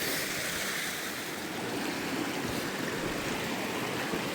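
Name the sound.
mountain stream water crossing on Mt Whitney trail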